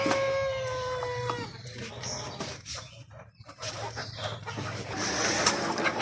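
A Fayoumi rooster crows on a poultry farm, a drawn-out harmonic call in the first second and a half, followed by softer farmyard bird noise and ambient rustle.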